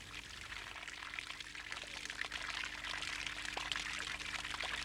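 Water pours steadily in a constant broadband splashing flow, moderately loud and unbroken throughout, part of an environmental piece about water use on Niue.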